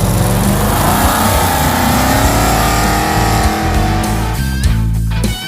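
Plymouth Duster powered by a big-block Chrysler accelerating hard at an autocross, a loud continuous roaring engine that climbs through revs, lifts off briefly and pulls again, close and dominant throughout.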